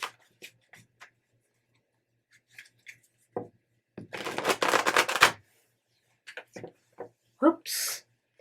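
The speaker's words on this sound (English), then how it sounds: "I knew that last shuffle was going to mess up a little." A deck of tarot-style cards being shuffled at a reading, a dense riffling burst lasting about a second amid scattered soft taps and handling clicks, with quiet talking around it.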